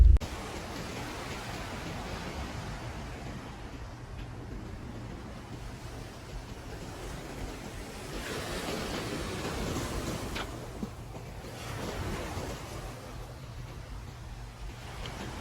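Ocean waves wash onto a beautiful, quiet beach in a steady, soft rush of surf, with swells rising and receding at a moderate distance and no voices.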